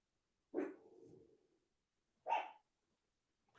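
A dog gives two barks some distance away, the first drawn out into a trailing growl-like tail, the second short and sharp, separated by quiet.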